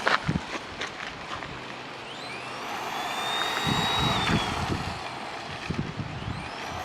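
An HPI Sprint 2 Sport 1/10 radio-controlled car with a Skyline GT-R body runs at full throttle, its high electric motor whine sweeping up and down as it passes, over scattered clatter and rumble. Nobody talks.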